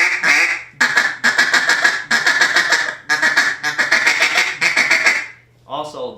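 A hand-blown duck call chatters in rapid quacking bursts, the rhythm and speed shifting from run to run with short pauses between, loud and close, with a brief spoken remark near the end.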